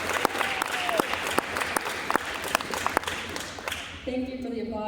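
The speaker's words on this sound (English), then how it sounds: "Thank you for the applause." Graduation ceremony audience applauding with sharp, dense clapping throughout, the ovation tapering off near the end as a steady tone enters.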